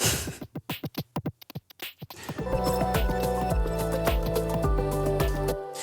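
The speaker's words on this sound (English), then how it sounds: "I turn on the beat repeat here for the climax of the song." Song climax where a beat repeat effect kicks in on the drum loop: choppy stuttering drum hits at first, then a dense, sustained full mix with repeated accented beats, loud and continuous.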